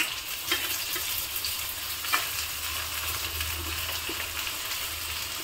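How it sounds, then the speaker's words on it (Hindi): Okra hisses and sizzles as it goes into hot oil in a home kitchen, a close, steady frying crackle with a few sharper pops and faint stirring clinks, and no talking. "अभी मेरा तेल हो गया है गर्म, इसमें मैं डालूँगी पहले भिंडी"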